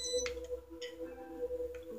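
A PS4 VR headset gives off a faint, steady electronic tone with a few short higher beeps recurring at irregular intervals.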